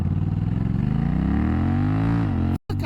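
A Honda Rebel 1100 motorcycle engine revving up close, a loud, steady, deep throbbing note that climbs in pitch as it accelerates, then cuts off briefly near the end.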